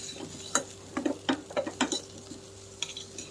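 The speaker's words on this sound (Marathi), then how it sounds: "तर हे व्यवस्थित हलवून घ्यायचे" A spoon scrapes and taps in a pressure cooker with a light sizzle of spices, a quick series of clinks and stirs close by, then a pause and a few more.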